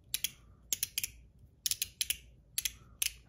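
ACEdc Pico Pick fidget toy clicked close by, in quick paired and tripled light clicks separated by short pauses, quiet and crisp against a faint background hiss.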